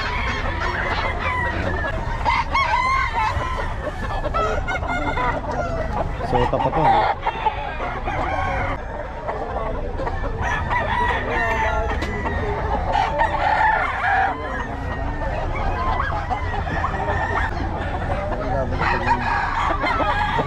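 Chickens and roosters at a poultry seller's stall crow and cluck continuously and loudly, many birds close by and overlapping, while people talk among them.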